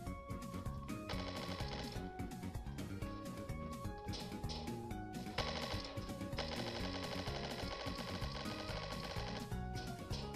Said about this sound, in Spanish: te di mil y un balazos para que te murieras y no te mueres